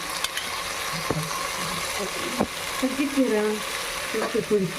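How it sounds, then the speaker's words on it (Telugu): Sliced onions sizzling and frying in a pan as two spoons of yogurt go in for a spicy mushroom pulao, a steady close hiss with light stirring clinks, and a voice faintly in the background. "దీంట్లోకి 2 స్పూన్స్ పెరుగు వేసుకోవాలన్నమాట"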